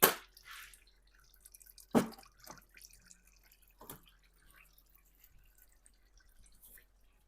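Transmission fluid draining from a Ford 6R80 automatic transmission, falling as scattered drips and splashes with a few sharper spattering hits, close by against a quiet background.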